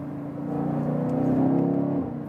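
A performance SUV engine revs after a downshift, rising to a loud, sustained growl that swells and then eases off, heard from inside the cabin.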